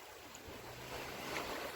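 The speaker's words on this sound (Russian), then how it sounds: "Мое японское море, чудесное, любимое." Sea waves of the Sea of Japan wash steadily, a soft, continuous surf hiss with light wind noise, faint and distant, with no voices.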